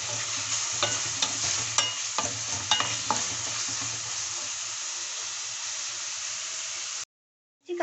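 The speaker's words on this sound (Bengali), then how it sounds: "হলুদ, ধনিয়া পাউডার, সবগুলো মশলা আমি ভালোভাবে ফ্রাই করে নেব।" Turmeric, coriander powder and spices frying in hot oil with a steady, close sizzle and occasional stirring scrapes. The sizzle runs on and ends in abrupt silence near the finish.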